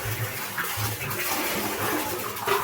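Water gushes under strong pressure from an overhead tank into buckets, a steady close rushing wash that carries on without pause and with no voices.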